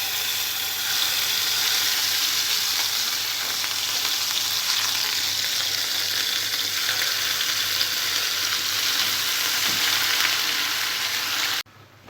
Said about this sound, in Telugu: ఈ పేస్ట్ పచ్చి వాసన పోయే వరకు బాగా ఆయిల్లో ఫ్రై చేసుకోవాలి